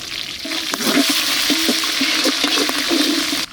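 Whole spices such as cinnamon, cumin and fennel with green chillies sizzle loudly in hot oil for a village-style okra dish, a brief dense frying hiss with small stirring knocks.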